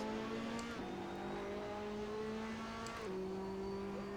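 Race car engine in Assetto Corsa, a Nissan on a qualifying lap, droning steadily with a pitch that shifts at gear changes, loud and continuous as another car draws close.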